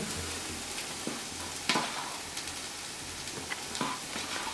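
Browned onions frying in a pan as chili powder goes in make a soft, continuous sizzle, with a few sharp scraping clicks from stirring and no talking.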